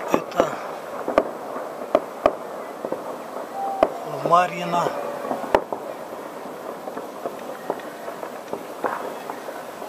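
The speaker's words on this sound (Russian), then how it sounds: "Местные такие невысокие, небольшие салюты." Sharp pops and bangs of small, low local New Year fireworks go off at irregular intervals in the distance, with a brief crackling whistle burst midway and a voice speaking briefly.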